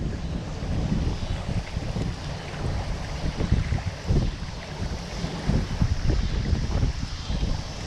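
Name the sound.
wind blowing on the Mississippi River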